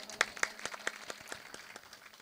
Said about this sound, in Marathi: एकदा टाळ्या वाजवा मायबाप